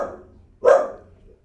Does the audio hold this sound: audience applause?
no